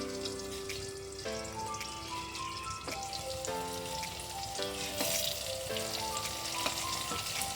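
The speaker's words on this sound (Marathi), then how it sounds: "एक 5 मिनिटासाठी चांगले मऊ करून घ्यायचे वांगी." Eggplant frying and steaming in oil in a pan, a continuous crackling sizzle over several seconds, close and steady, with background music tones running underneath.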